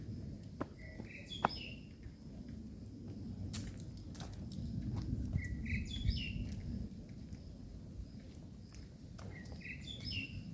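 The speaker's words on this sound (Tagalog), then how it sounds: "Mga ibon." Birds chirp in short bright bursts at Hong Kong Wetlands, recurring every few seconds over a steady low background hum, moderately close and clear with no talking.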